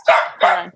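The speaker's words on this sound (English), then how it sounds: "I'm sorry about my dogs." Pet dogs barking indoors, two loud close barks about a third of a second apart, with a person speaking briefly around them.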